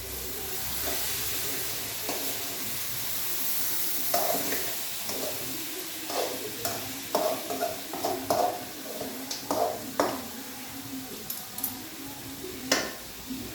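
Fish frying in a pan and being stirred, a steady hiss of oil underneath repeated scraping and clinking strokes that grow busier toward the end, close and clear, no talking.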